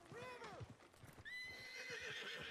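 A horse in Red Dead Redemption 2 roleplay gives a clear, close whinny, followed by a rising high squeal, with hoof clip-clops underneath and faint voices in the background.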